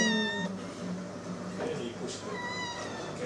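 A cat meows several times, close and clear, with a person speaking briefly in between.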